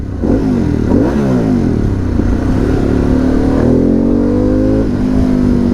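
A Harley-Davidson Pan America motorcycle accelerates hard in second gear, its engine note climbing steadily through a long rev with a shift partway, loud and close to the rider.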